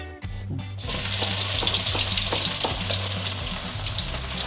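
Shallots and chilies frying in hot oil, a loud close hiss of sizzling and spattering that surges in after a brief clatter and continues steadily, with low pulsing sounds beneath.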